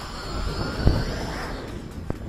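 Hubsan X4 Desire Pro H216A GPS drone coming in to land outdoors, a steady high motor whine over heavy wind rumble, with a brief thump near the middle.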